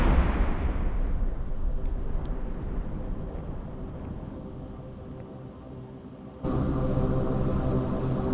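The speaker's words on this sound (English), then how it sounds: "Okay, this Vexor has been destroyed." A Vexor Navy ship blowing up in the space game EVE Echoes: a loud, sustained low rumbling blast that fades gradually, then surges again with a sharp jump in roar near the end.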